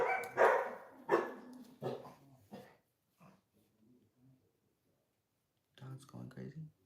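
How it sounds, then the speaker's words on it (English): A dog barks in a few loud, close bursts over the first couple of seconds, then sporadic fainter yips, with a further cluster of barks near the end. "Dog's going crazy."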